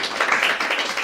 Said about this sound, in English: Can we just round of applause for me?